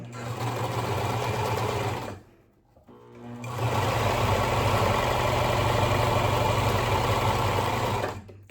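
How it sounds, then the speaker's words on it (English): A sewing machine stitches fabric for a scrunchie in two long steady runs, loud and close, with a short pause between. "make sure all that is well away from my seam, and then continue sewing straight."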